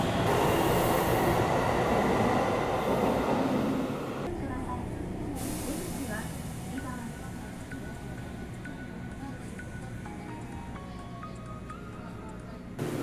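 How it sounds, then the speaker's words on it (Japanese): A Sendai Subway Namboku Line train rumbles loudly as it pulls away, the roar easing into a steady running hum with faint wheel squeals and rattles throughout. "さあ列車出発しました。"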